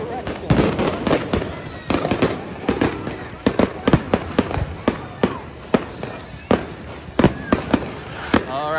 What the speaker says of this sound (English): Oh, fireworks in both directions.